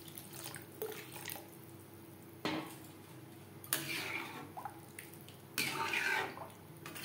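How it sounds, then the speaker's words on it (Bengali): Water poured into a pot of coconut mung dal. It comes as several soft splashy pours and trickles in bursts with quiet gaps between them, with faint background noise throughout. "আর দিয়ে দেব পরিমাণ মতো জল"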